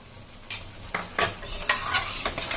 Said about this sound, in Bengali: তেল ছাড়া অবধি মশলাটা ভালো করে কষিয়ে নেব।